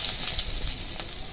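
Bay leaf sizzles and crackles steadily in hot oil in a pan, the first step of a snail curry, a close, continuous frying hiss with small pops and no voices.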